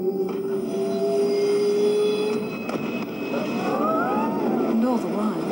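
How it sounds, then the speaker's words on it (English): A train runs along the rails in a radio advert, a loud, continuous rumble with high wheel squeals and tonal whines rising and falling, while voices talk over it. "you're on the train home"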